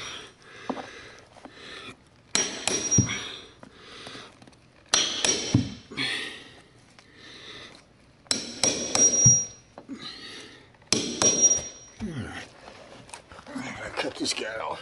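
Claw hammer blows during carpet installation land in short clusters every few seconds, sharp metallic strikes with a ringing edge and quieter pauses between them.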